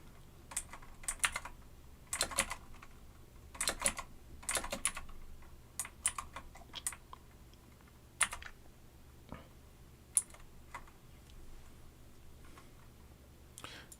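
Typing on a computer keyboard: bursts of quick key clicks with pauses between runs, fairly faint and close, with no speech over it.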